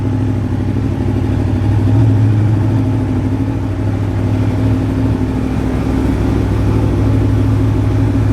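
A motorcycle engine runs steadily after being shifted into gear, a loud close low rumble holding a constant pitch throughout.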